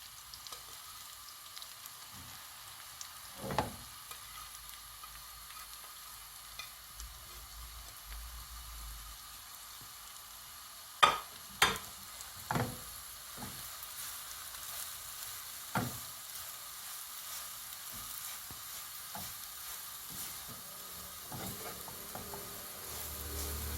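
Quiet, steady sizzle of shredded kadayif pastry frying in melted butter in a pan, broken by a few sharp clinks and scrapes of stirring.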